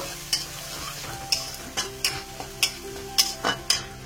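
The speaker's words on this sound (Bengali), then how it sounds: "প্রথমে আমি রসুন দিলাম আর কাঁচা লঙ্কা দিয়ে একটু হালকা করে নেড়ে চেড়ে নেব" Garlic and green chilies frying in a pan for egg biryani spices, with a soft, steady sizzle and about a dozen sharp spatula scrapes and taps at an irregular pace.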